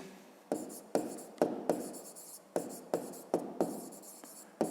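Pen strokes on paper while working a fifth-grade maths exercise by hand, a series of about nine short scratchy bursts in a quick uneven rhythm, close and fairly quiet.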